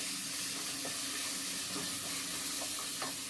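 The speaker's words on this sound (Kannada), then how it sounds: "ಎಲ್ಲ ಫ್ರೈ ಆಗ್ತಾ ಇದೆ." Green chillies and cashews frying in oil for mutton chops, a steady close sizzle with faint stirring clinks throughout, no talking.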